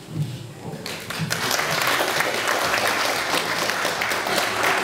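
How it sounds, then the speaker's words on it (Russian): An audience applauds the winners of a best-video award at a couple-of-the-year celebration, the clapping swelling quickly after a quieter start and holding dense and loud to the end. "Аплодисменты победителям номинации «Лучшее видео»."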